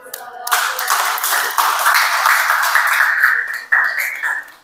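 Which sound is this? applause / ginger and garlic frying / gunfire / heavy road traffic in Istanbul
applause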